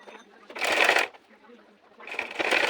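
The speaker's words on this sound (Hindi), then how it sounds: "तो यहाँ पे सबसे पहले इस तरह से पहले हम सिलाई लगाएंगे।" Sewing machine stitching ladies' pants in two loud bursts of whirring, each about half a second to a second long, with a quiet pause between them.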